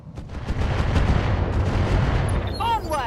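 Mech weapons fire on a target in RogueTech, a video game: dense, continuous booming barrage with rumbling low end and sharp bursts, sustained for about three seconds, with a brief synthetic chirp and voice at the end.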